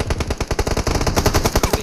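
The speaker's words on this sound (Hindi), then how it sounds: "मेरे को पीछे से शॉट्स पड़ रहे हैं" Automatic gunfire in PUBG Mobile, a rapid close burst of sharp shots firing in a fast, steady rhythm for nearly two seconds, loud and with no one talking.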